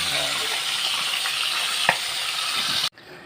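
Ginulay na mais, a corn dish, boiling and cooking in a pot: a steady close bubbling, sizzling hiss with one brief clunk, cut off abruptly near the end.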